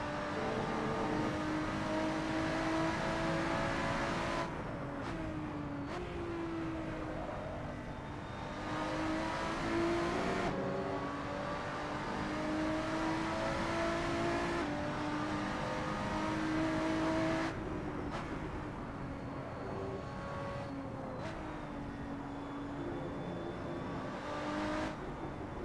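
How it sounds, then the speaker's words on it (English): Race car engine in Assetto Corsa, Ready to Race pack, revving loudly through repeated gear changes, with sharp drops at each shift and rising whine on a long straight, heard alone. "Okay, now we're gonna listen to this engine."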